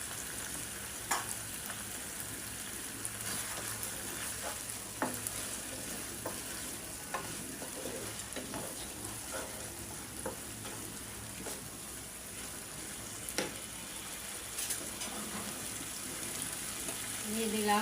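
Onions fry into crisp golden birista in a pan for a chicken roast, giving a steady sizzle broken by scattered stirring scrapes and clinks. A voice talks faintly in places.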